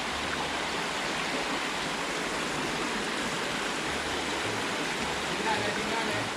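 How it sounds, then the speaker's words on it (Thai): A flowing stream, not a waterfall, rushes steadily in a continuous, dense wash of water noise that stays even throughout. "น้ำไหลครับ ไม่ใช่น้ำตกนะครับ น้ำไหล"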